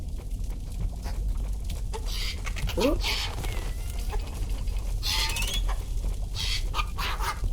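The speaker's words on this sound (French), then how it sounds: "Le dindon, il fait la taille de LeBron James." A giant turkey in the video game Deadly Delivery gobbles and clucks in short bursts over a busy game background, while someone speaks briefly.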